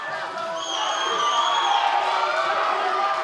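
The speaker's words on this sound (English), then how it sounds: "the crowd's on their feet" An arena crowd cheers at a UFC bantamweight fight, a loud sustained roar with whoops rising over it while a commentator talks.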